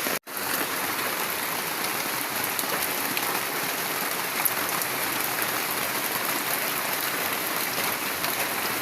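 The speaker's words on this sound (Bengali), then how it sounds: "কি সুন্দর বৃষ্টি হচ্ছে পুকুরে।" Heavy rain pouring onto a pond, a dense, loud, continuous hiss of drops striking water that holds steady throughout after a brief dip at the start.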